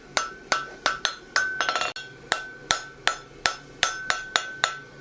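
A smith's hammer rings steadily on a plain stamp hind horseshoe at the anvil, a dozen bright, close metallic strikes in an even rhythm with a brief quick flurry of lighter taps partway through.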